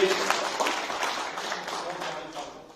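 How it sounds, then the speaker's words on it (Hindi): Audience applause at a blood donation camp and talent award ceremony held by a Rajasthan community association: a steady, moderately loud wash of clapping, with a voice talking over it. "श्री श्याम सुंदर जी पांचाल साहब, एक बार जोरदार तालियों के साथ अभिनंदन कीजिए"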